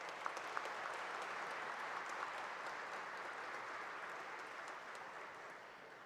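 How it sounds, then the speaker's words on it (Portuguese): An audience applauds steadily at a tribute to Afro-Brazilian culture, the clapping soft and distant as it slowly fades over several seconds. "o professor Carlos Eugênio Líbano Soares, a quem eu peço uma salva de palmas."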